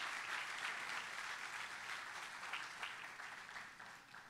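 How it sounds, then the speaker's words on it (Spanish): A church congregation applauds during an evening service, a dense, sustained wash of many hands clapping that fades slightly toward the end, with no speech over it. "¿Cuánto le pueden dar un aplauso a Jesucristo en esta noche?"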